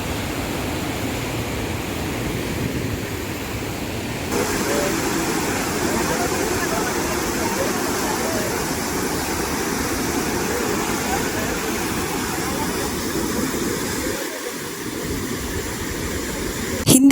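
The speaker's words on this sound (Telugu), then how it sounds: "పాలరాతి కొండల గుండా ప్రవహించే నర్మదా నది అతి వేగంగా ప్రవహిస్తూ ఎత్తైన శిలలపై నుండి కిందికి జాలువారుతూ గర్జిస్తూ" The Dhuandhar waterfall on the Narmada river, pouring through marble rock cliffs, gives off a steady, loud, broadband roar that holds unchanged throughout.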